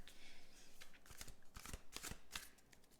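Tarot cards shuffled by hand make a steady run of riffling, papery flutter with sharper slaps mixed in, close but fairly soft, with nobody talking.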